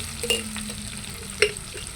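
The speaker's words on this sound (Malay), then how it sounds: "Tumis pes cili tadi." Chili paste for sambal ikan bilis fries in hot vegetable oil in a pot, giving a steady close sizzle, with a couple of sharper crackles and stirring scrapes, and no voices.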